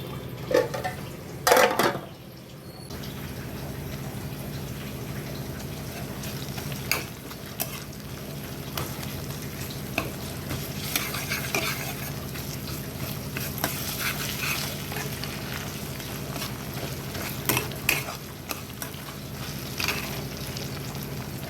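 Gongura chicken sizzling and simmering in a pan with curry leaves and coriander, a soft continuous fry under occasional scraping stirs and clinks of a spoon against the pan, no talking.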